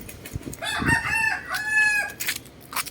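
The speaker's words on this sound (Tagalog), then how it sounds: "So, maganda manukan dito guys." Roosters at a chicken farm crow in overlapping calls, one long cock-a-doodle-doo followed by another, fairly close, with some clucking and scattered farmyard noise around them.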